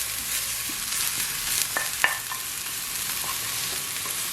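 Onion and garlic fry in a pan, a steady broadband sizzle with a few sharp crackles and pops near the middle, close and fairly loud, with no voices.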